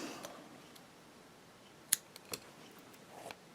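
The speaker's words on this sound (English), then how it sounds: "Cut your yarn" Scissors snip through crochet yarn, a sharp metallic click near the midpoint followed by a couple of softer snips, close and clear against a quiet room.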